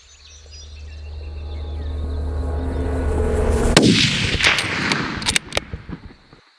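Rifle shot fired on a deer hunt in Australia: one sharp, loud blast cracks through a quiet outdoor scene with insects, followed by a few fainter echoing bursts and rustling.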